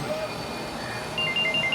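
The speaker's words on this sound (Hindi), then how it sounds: "इसका फोन आ रहा है।" A phone rings in a room during a casual Urdu-language drama scene, a short electronic ringtone pattern repeating in the last half second over light background chatter and room noise.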